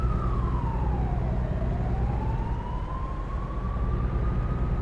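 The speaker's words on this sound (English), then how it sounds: "that wretched police car next to me" A police car siren wails in American Truck Simulator, one long sweeping tone falling then slowly rising, loud and near over a constant heavy truck engine rumble.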